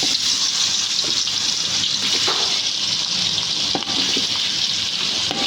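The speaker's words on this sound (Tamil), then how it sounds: "மிக்ஸ் பண்ணி வச்சுருக்க பன்னீரை அது கூட போட்டு நல்லா ஃப்ரை பண்ணி எடுத்துப்போம்" Paneer cubes fry in hot oil in a kadai, giving a dense, continuous hiss and sizzle close up, steady for a few seconds with small crackles.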